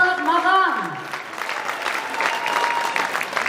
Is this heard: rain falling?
no